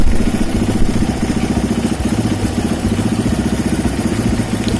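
A UM Renegade motorcycle engine idles steadily up close, giving a loud, continuous low chugging rumble with a light mechanical clatter throughout.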